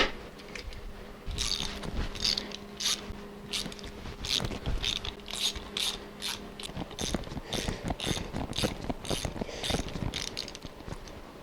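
A hand ratchet clicks rapidly in bursts while loosening head bolts on a Dauntless V6 engine from a Willys CJ5, close and fairly quiet, with short pauses between runs of ratcheting.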